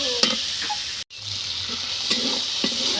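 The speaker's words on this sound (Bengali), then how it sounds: "চিংড়ি মাছগুলো দিয়ে দেব। ভালো করে কষে নেব।" Shrimp sizzle loudly in a hot pan for a Bengali vegetable dish with bean seeds and eggplant. The frying is close and continuous, with scraping stirring strokes and a brief pause in the sizzle.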